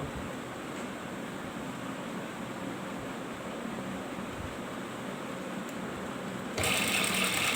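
Sewing machine stitching a ladies' belt shalwar, running as a steady, continuous whir close by, with a brighter, louder burst of stitching near the end.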